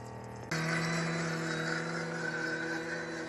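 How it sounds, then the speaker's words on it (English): A ChefWave Milkmade nut milk maker runs its self-cleaning cycle, a pump starting abruptly and humming steadily close by while water flows and dispenses, with no talking. "as soon as the process is finished, the machine is gonna go into self-cleaning"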